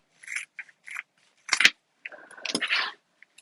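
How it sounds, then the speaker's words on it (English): Scissors snip through the fabric seam allowance of a sewn zippered pouch, making several short crisp cuts close by with brief pauses between them and a longer rasping cut near the end, with no talking. "Now what we can do is just trim the seam allowance along both sides here."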